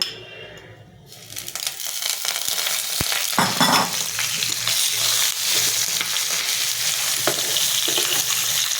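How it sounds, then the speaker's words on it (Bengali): About 500 grams of oiled mutton sizzles loudly as it is sautéed in a pan, a dense, close frying crackle that starts abruptly after a quiet moment, with occasional scrapes and clinks of stirring. "আমি এটা খুব ভালো করে কষবো"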